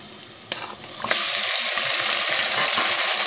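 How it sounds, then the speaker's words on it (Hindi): Chicken pieces frying with browned onions in a pan for a Hyderabadi-style bhuna gosht curry, a few soft stirring knocks giving way to a loud, steady, close-up sizzle that fills the rest. "ये देखिए, चिकन हमारा तकरीबन 5 मिनट हो गए फ्राई करते हुए, अच्छे से फ्राई हो गया।"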